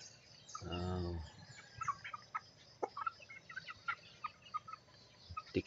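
A Texas breed chicken gives a short harsh squawk up close, followed by scattered soft clucks and faint chirps in a quiet outdoor setting.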